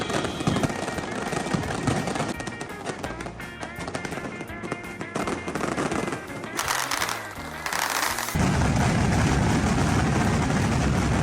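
A fireworks display by Pirotecnia Zarzoso in Valencia, celebrating the Virgen de los Desamparados, with loud rapid bursts and crackling shots continuing throughout and building into a dense, roaring barrage toward the end.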